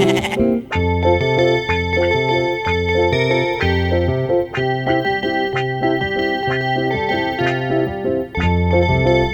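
A lamb's bleat in a Tamil children's animal-sound song, set over a bouncy, steady musical backing with repeated melodic notes throughout.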